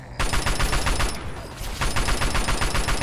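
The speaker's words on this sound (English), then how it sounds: "let's try just tee off on him with the assault rifle" Assault rifle fire in Fallout 3 crackles in rapid, loud bursts of automatic shots. A short pause splits the two sustained volleys.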